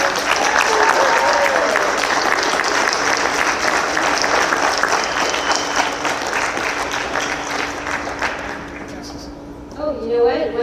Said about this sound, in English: Can we celebrate them and give them the round of applause that they deserve?